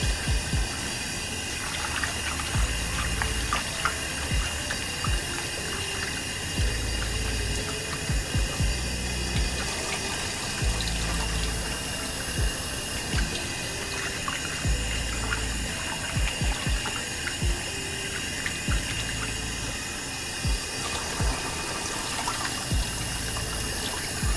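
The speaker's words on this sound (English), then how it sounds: "what I'm doing now off camera, is giving this meat a rinse" Running tap water splashes steadily into a kitchen sink while raw meat is rinsed under it, a continuous close hiss and patter lasting the whole time with no talking.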